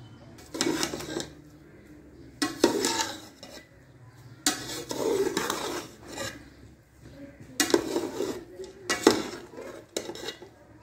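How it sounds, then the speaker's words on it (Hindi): Cooked whole masoor lentil pulao rice scooped from a pot onto a plate: several separate bursts of metal spoon scraping and clinking against the cookware, close and fairly loud, with quiet pauses between them. "अभी इसके दम को इन चावलों को उठाएंगे और उसके बाद प्लेट में डाल दें।"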